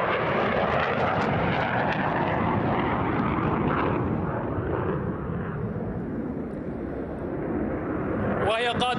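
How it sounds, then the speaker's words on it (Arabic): A single-engine military jet in an air force parade: a loud, steady jet roar fills the air, broad and rumbling, with a brief rattling burst near the end. "وهي طائرة هجومية ودفاعية في نفس الوقت ذات محرك أحادي"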